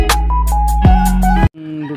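Chickens and roosters at a poultry farm, a close, loud rooster-like crow with harmonic calls and squawks filling nearly the whole moment before a softer call follows, no talking.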